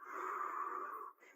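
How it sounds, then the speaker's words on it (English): A single long breath is pushed out through the mouth as part of a deep breathing exercise, a steady airy whoosh lasting about a second that trails off into a short softer breath, close and fairly quiet. "Exhale through your mouth."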